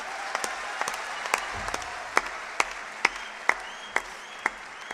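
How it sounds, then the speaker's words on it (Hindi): Scattered, sparse clapping from an audience, individual claps ringing out irregularly rather than a full roar, fairly quiet and distant. "एक बार जोरदार तालियां बजा दीजिए"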